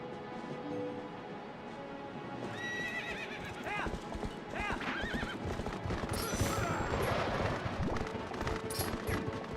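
Horse neighs and hooves clip-clop in the Zelda: Twilight Princess video game, with repeated whinnies over a steady, busy clatter of gameplay sound that grows louder toward the end.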